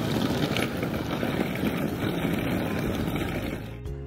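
Petrol motorbikes rumble and drone along a street in Mong Cai, Vietnam, a dense continuous engine noise of passing traffic close by that thins out briefly at the end.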